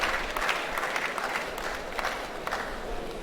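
Freshmen at a university orientation programme applaud together, a dense, steady wash of clapping from a large crowd that holds at an even level throughout.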